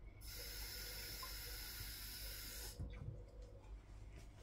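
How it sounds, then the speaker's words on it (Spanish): Half a cup of water pours steadily into a buttermilk lemonade, a continuous bright splashing hiss for about two and a half seconds, then stopping, with faint low kitchen rumble remaining. "Voy a echarle también media taza de agua para que quede menos espeso."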